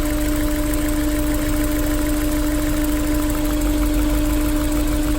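An idling Honda S2000 engine misfires with fuel injector number 1 unplugged, running rough and uneven, with a steady hum and a stumbling, knocking pulse, close and continuous.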